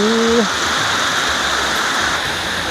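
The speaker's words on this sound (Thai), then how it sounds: "สวยมากเลย น้ำตกแม่เศรษฐี" Mae Setthi waterfall in Ron Phibun pours in a constant, dense rushing roar that stays close and loud throughout. A voice sounds briefly at the very start.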